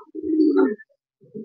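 Racing pigeons coo at close range in a loft, one loud low coo followed after a short pause by the start of another.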